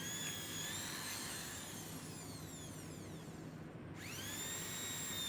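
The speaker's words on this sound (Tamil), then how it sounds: "ரெண்டு எண்ட்லையுமே பார்த்திங்கன்னா ட்ரில்லர் வச்சு ட்ரில் பண்ணிக்கலாம்" A power drill whirs while drilling into old waste wood for furniture restoration, a steady high-pitched whine that dips and winds back up near the end, heard alone without talk.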